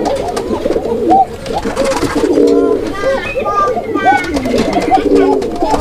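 A male Indian Bombay pigeon coos repeatedly in rolling, throaty phrases, close and clear, among other pigeons calling on a busy pigeon farm.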